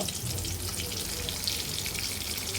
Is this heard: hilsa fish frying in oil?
yes